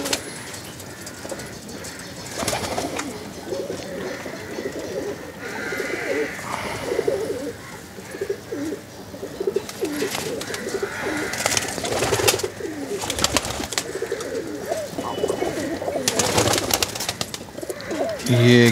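Pigeons in a home loft coo repeatedly in soft, low throaty calls over a busy background with rustling and someone talking throughout.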